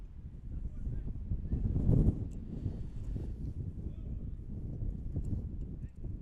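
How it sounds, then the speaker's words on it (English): Wind gusting outdoors at a high school baseball game, a low rumbling buffet across the microphone that swells to a strong gust midway and then settles into a steady blustery roar. "You can hear the wind gusting"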